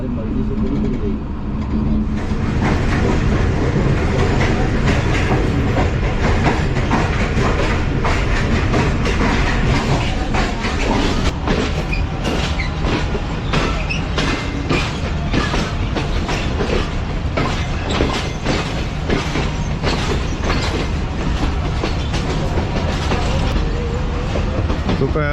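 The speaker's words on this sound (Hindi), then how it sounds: "ट्रेन हमारी अप्रोच बना रही है लाहौर जंक्शन पर" The Tezgam passenger train, running from Rawalpindi toward Karachi, rolls steadily on the rails as it approaches Lahore Junction. A loud, continuous rumble carries rhythmic clickety-clack beats throughout.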